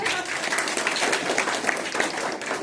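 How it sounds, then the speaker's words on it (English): A small crowd at a graduation party breaks into a steady round of applause, dense and continuous throughout, close by, with a few voices mixed in. "Round of applause for Savannah."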